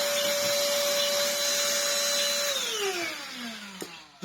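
A Black & Decker DustBuster Flexi handheld vacuum's motor whines steadily at a high pitch, close and loud, then spins down with a falling tone before a couple of sharp clicks at the end.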